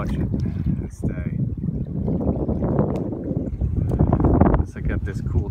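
Gusty wind on a stormy day by the Elizabeth River in Virginia, a steady rushing roar buffeting the microphone close up, rising and falling in strength with no talking.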